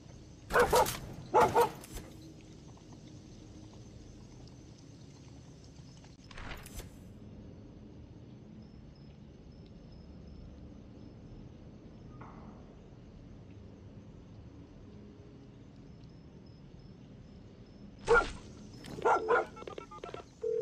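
A dog barks in the video game Far Cry 6, a pair of sharp close barks at the start, a lone bark midway, then a burst of several quick barks near the end over a quiet ambient background.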